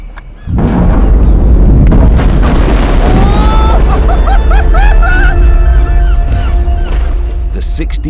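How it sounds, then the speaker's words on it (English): A controlled underwater explosion in harbour water bursts loudly as a low, sustained boom, with rushing spray and turbulence that carry on for several seconds while people's voices and whistles rise over it. "50-meter plume of water fired into the air by the explosion signifies the operation is a success"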